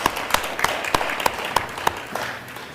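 Applause from an audience at a joint school board meeting, honoring students, with a steady patter of many hands clapping, sharp individual claps standing out at regular intervals throughout, fairly close and moderately loud.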